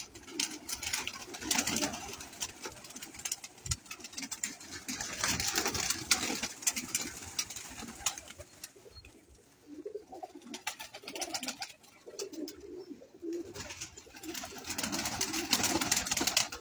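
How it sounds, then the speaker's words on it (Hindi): Breeder pigeons coo steadily in a loft, low, throaty calls overlapping and repeating throughout, with soft rustling and shuffling underneath. "ये जी सारे ब्रीडर कबूतर हैं जी।"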